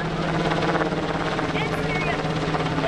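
A UH-60 Black Hawk helicopter of an aviation regiment departs at a lakeside airshow, its steady rotor thump and turbine whine continuous and fairly loud, with background crowd noise.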